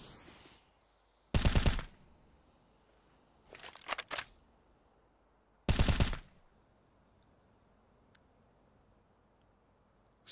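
Gunfire from rifles and pistols in a Counter-Strike: Global Offensive esports match, including AK-47s and an AWP: three loud, sharp bursts of shots stand out against a quiet background, the middle one a ragged cluster of several reports.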